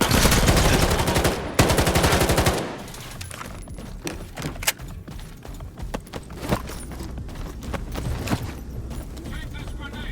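Gunfire in S.T.A.L.K.E.R. 2: Heart of Chornobyl, opening with loud, rapid automatic bursts and then thinning to scattered single shots and clatter, with voices heard now and then.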